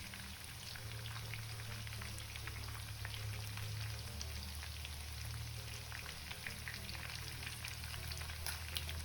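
Steady, dense sizzling of breaded chicken frying in a pan, a continuous crackle with scattered pops, close and fairly loud, no voices.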